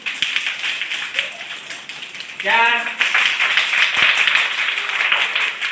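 Fingers tapped on the palm in a rain clap, three and then four fingers, imitate rainfall: a dense, brisk patter that grows fuller and louder after a voice counts aloud partway through.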